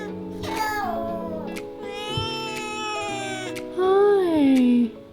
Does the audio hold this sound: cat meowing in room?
yes